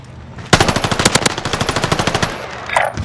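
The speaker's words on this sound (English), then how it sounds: "he shot me through the wall" Automatic gunfire in a video game shooter, one loud rapid burst of evenly spaced shots lasting about two seconds, then a short fading tail.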